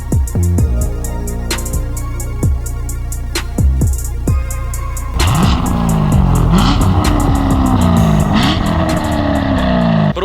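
A 2014 Chevrolet Corvette with a 6.2-litre 460 hp V8 and catalysts removed, readied for a launch: loud, close blips of revving, then a hard, rising roar as it accelerates, with crackling exhaust over the rising engine note.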